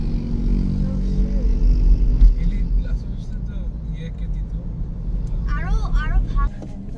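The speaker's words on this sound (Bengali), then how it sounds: "এখানে বাইকগুলো অনেক দ্রুত চলে যায়" Traffic on a Bangkok street, motorbikes and cars rushing past close by with engine whooshes, a loud pass near the start, voices talking over it.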